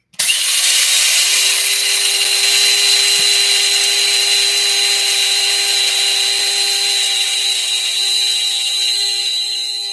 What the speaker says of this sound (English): Grinder's going on. We're grinding some coriander seeds.